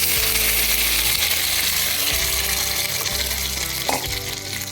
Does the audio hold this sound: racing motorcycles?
no